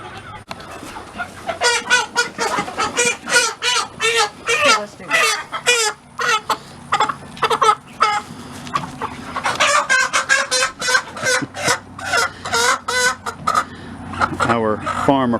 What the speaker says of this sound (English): Dad ended up with all the roosters, so they grew a whole lot faster than the other birds